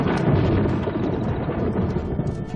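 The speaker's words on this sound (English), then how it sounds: "A storm approaches." A deep, continuous rumble of thunder rolls on steadily, loud and broad with no pauses, like a storm close by.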